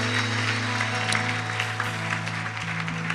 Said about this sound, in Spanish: Denle un aplauso a nuestro Padre.